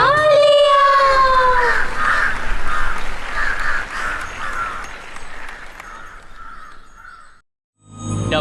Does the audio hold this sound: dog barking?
no